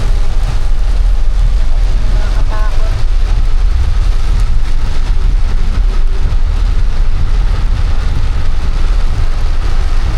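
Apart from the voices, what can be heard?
heavy rain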